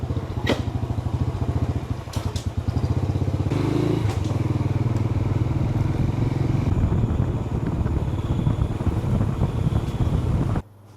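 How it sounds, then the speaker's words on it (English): A motorbike carries a rider from a hotel reception to a room, its engine droning steadily and close throughout with wind rushing over the microphone, then cutting off abruptly at the end. "I've never taken a motorbike to go from the reception to the hotel room."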